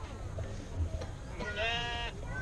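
Sheep at a shearing bleat once in a drawn, wavering call about two-thirds of the way through, moderately close over a low, rumbling background with faint scattered noise.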